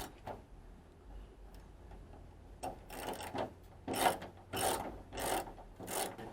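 A ratchet turns 10 millimeter bolts while a rear wing is installed on a 2009 Mustang California Special. Several close bursts of clicking come in a steady rhythm after a quiet start.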